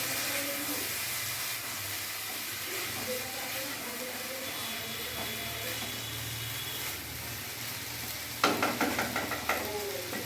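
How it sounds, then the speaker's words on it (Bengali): Raw rice and pointed gourd (potol) being sautéed together in a pan, a continuous close sizzle under repeated stirring, ending in a burst of sharp metallic scraping clatters near the end, with no talking. "এবার একটু ভালো করে আমি কষবো"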